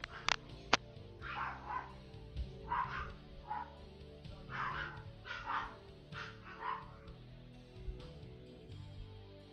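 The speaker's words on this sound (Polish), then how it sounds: "No jak słychać znowu mojego pieska" A pet dog barks repeatedly indoors after spotting another dog through a window, a string of sharp yips and barks in irregular bursts, moderately loud and close, with no talk over them.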